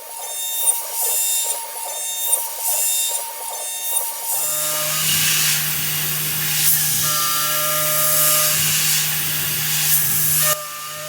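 A milling cutter machines a steel 1911 mainspring housing, starting with rhythmic mechanical whirring pulses, then settling into a loud, sustained hissing cut with a steady drone, close and without speech.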